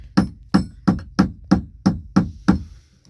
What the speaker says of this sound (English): You just can come back and trim the excess away with the chisel just a little bit to center it on the plate.